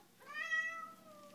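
A young female cat gives a single clear, drawn-out meow nearby, rising and then slowly fading in a quiet room.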